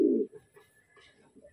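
A pigeon gives a single close, soft coo at the start, followed by a few faint, quieter murmurs in near silence.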